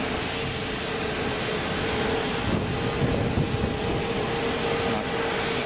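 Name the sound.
Boeing 777X jet engines after landing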